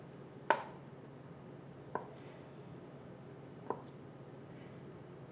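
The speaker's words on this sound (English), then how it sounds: "I'm just slicing the potatoes." Cooked potatoes being sliced for German potato salad, with four sharp, isolated knife cuts spaced about 1.5 seconds apart against a quiet kitchen background.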